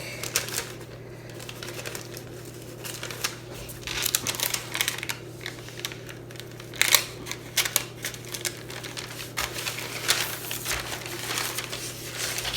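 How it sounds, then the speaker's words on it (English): Plastic film is peeled off a paper napkin transfer in a run of crisp, irregular crinkles and crackles. The sound is close and comes in uneven bursts over a quiet background hum. "I'm going to get this extra plastic off now so I don't forget"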